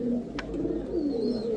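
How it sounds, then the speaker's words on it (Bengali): A pair of large Bagha pigeons cooing close by, a soft low rolling coo repeating through the moment with faint background noise and a brief higher chirp. "বাঘা কবুতর, বিগ সাইজের একটা জোড়া মাশাআল্লাহ।"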